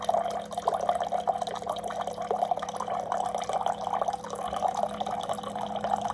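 A water filter dispenser pours a measured 4 ounces of rain-catchment drinking water in a steady, close trickling stream, with a faint hum underneath.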